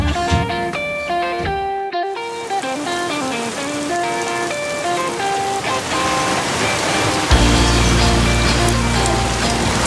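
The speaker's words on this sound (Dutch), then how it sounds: "wel lekker even zo'n verfrissend buitje" A rain shower falls on a boat, a dense, loud steady hiss of drops drumming on the surface, partly under music, growing heavier and rougher toward the end.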